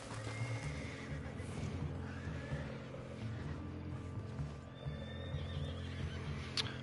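A horse neighs and whinnies in the Red Dead Online video game, with hooves clip-clopping beneath it, amid a steady rumble of game ambience.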